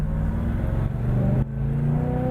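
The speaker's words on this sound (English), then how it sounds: "It's got like the stock exhaust, so you can hear the power of the motor" A 1970 Chevrolet Chevelle V8 on its stock exhaust revs up, a loud, close, low engine roar rising in pitch with a brief dip partway through before climbing again, no voices.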